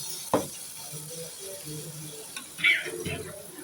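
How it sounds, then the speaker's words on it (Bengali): Water is poured into a cooking pot of taro stolons and jackfruit seeds, giving two short splashing bursts over a faint sizzle, with no talk. "এখন পরিমাণ মতো পানি দিয়ে দেব।"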